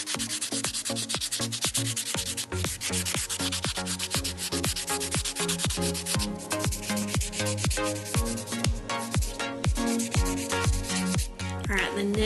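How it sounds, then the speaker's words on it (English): A buffing block removes the shine from a fingernail before dip powder goes on. Steady, rapid rubbing strokes sound up close and continue throughout, over background music. "use your buffing block to buff the shine off of your fingernail"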